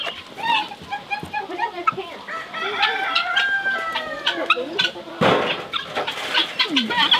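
Chickens cluck and squawk busily close by on a homestead, with a rooster's crow rising among them and some voices mixed in.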